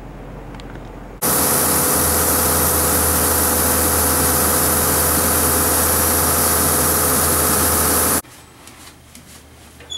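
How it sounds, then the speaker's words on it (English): Air compressor aboard the steamship SS John W. Brown during an engine-room dock trial starts abruptly and runs as a loud, steady broadband roar with a low hum for about seven seconds, then cuts off to quieter machinery-room ambience. "Headed for the air compressor. Start that up."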